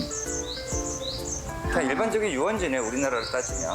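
High chirps and tweets of birds in a park, repeating in short bursts behind close conversational speech, with a steady outdoor background.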